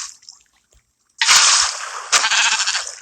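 Minecraft sheep bleating: two loud, close, synthetic bleats after a short quiet stretch, the second following about a second after the first.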